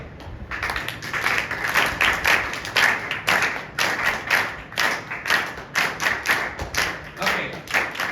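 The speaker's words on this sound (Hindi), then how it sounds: "वो वाली ताली जाए।" A Sunday church congregation claps together in a steady, patterned rhythm, the loud synchronized beats repeating about twice a second, with some voices audible beneath.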